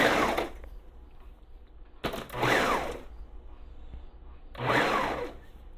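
Blender pulsing on its chop setting to reduce a mixture for a mildew remover for zucchini, cucumbers and melons into a puree, three short whirring bursts separated by pauses.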